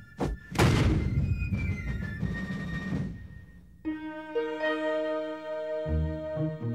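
Cannon fired with a linstock during a Revolutionary War era reenactment, giving one loud, close boom that decays into a rumble, followed by ringing musical tones and no talking.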